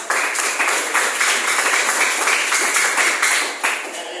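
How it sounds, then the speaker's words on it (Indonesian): A classroom group claps for a winning team during a teaching practice session, a dense burst of many hands beating together in a quick, fairly loud patter that eases slightly near the end. "Tepuk tangan buat kelompok 2 semuanya."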